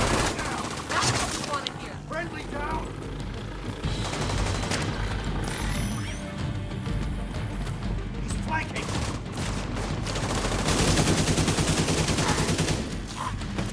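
Heavy gunfire with shock rounds in The Division 2, a near, continuous barrage of rapid bursts and booms running the whole time, with a voice shouting over it.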